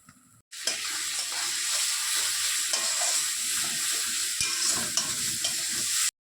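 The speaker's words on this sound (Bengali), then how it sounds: "এবার অল্প লবণ আর হলুদ দিয়ে অল্প মশলাটা কষিয়ে নেব।" A mustard and green chilli spice paste with salt and turmeric sizzles and fries in hot oil in a pan for a Bengali sarpunti fish curry, a loud, continuous hiss with stirring scrapes that breaks off abruptly.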